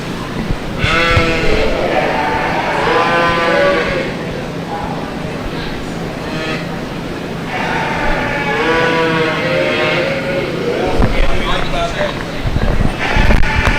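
Yearling Oxford ewes bleat repeatedly at a breeding sheep show, their cries rising over a constant murmur of crowd and hall noise.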